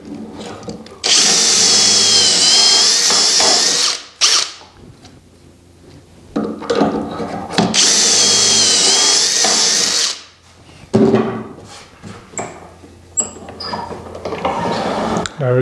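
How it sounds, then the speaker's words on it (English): A power drill bores holes in the rail of a bedroom dresser, running in two long, loud bursts of about three seconds each, followed by shorter clattering and handling noises. "So we're going to drill in 4 and 5."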